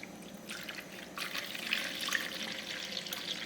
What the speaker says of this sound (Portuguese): eu vou colocar aqui na tigela 500 ml de leite